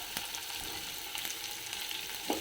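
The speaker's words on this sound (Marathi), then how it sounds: "कांदा टाकते आता" Chopped onion fries in a pan, a steady soft sizzle running throughout with a few faint stirring scrapes and a small clatter near the end, close but quiet, no speech.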